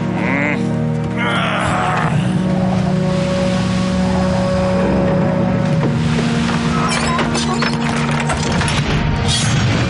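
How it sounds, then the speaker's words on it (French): Pirate sailing ship at sea under full sail, heard as steady ocean surf and rushing water with wind and creaking vessel noise, loud and continuous throughout with tonal drones mixed in. "Capitaine, un vaisseau pirate toute voile dehors."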